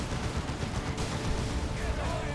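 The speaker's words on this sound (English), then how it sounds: "Las Cannon getting shots on the Dreadnought" Lascannons fire at a Dreadnought in a Dawn of War 2 battle, with dense, continuous crackling blasts and explosions packed together under the din of combat.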